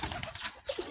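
Pigeons coo faintly inside a loft, short low calls amid rustling and general background clatter.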